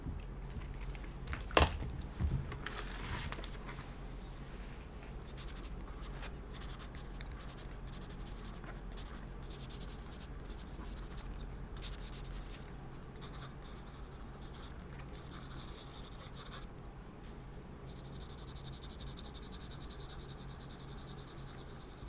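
A pen scratches across paper in close, quiet strokes, writing down notes during an ASMR interview, with a few louder taps near the start and continuous faint scribbling afterward.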